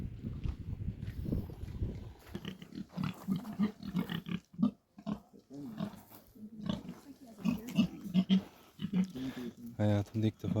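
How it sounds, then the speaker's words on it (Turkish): A pink pig grunts and snorts close by in an alpine village in Albania's Theth National Park, while people talk over it throughout. "Hayatımda ilk defa pembe domuz görüyorum."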